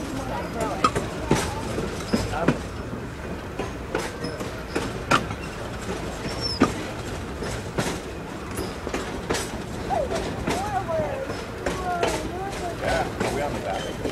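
An Osceola & St. Croix Valley excursion train rolls on rails between Marine on St. Croix and Osceola, with repeated clickety-clack wheel beats, occasional squeals and a constant rumble, close and loud, while people talk nearby.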